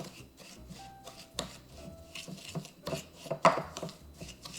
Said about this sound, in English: Just mix the brown sugar with the butter lightly, slightly